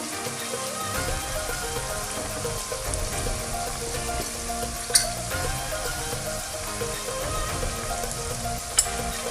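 Curry spices, red chili powder, curry powder and garam masala for a broiler chicken curry, sizzle steadily in a pan while being stirred, a dense continuous crackle with two sharp clinks near the end and no talking.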